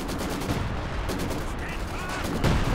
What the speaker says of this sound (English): Major artillery out the back